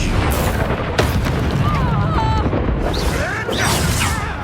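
Repeated fiery Confringo spell blasts from Hogwarts Legacy go off in a loud, dense stream of booms and bursts, with whooshing magic effects layered over a constant rumble of game action.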